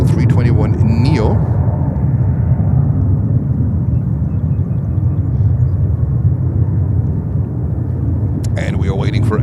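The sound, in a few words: JetBlue Airbus A321neo taking off at JFK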